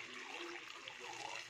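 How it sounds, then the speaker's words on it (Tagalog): Water poured into a cooking pot to make broth for a Saudi idam stew of vegetables and chicken, a steady continuous splashing pour that runs unbroken throughout, fairly close and moderately loud, with no voices. "Lalagyan na natin ng konti tubig para sa sabaw niya."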